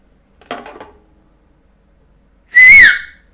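A person whistles one short, loud, rising-and-falling note near the end, preceded by a brief clatter like light kitchenware; otherwise quiet.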